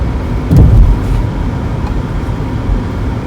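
A car drives along with a steady low engine and road rumble heard from inside the cabin, plus a brief heavier thump early on.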